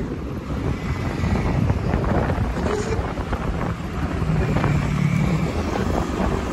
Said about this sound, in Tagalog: Hirap lang umusad, ang lakas ng hangin.